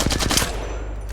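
Rapid automatic fire from a Flatline rifle in Apex Legends, a loud burst of closely spaced shots that cuts off partway through and leaves a short decaying tail.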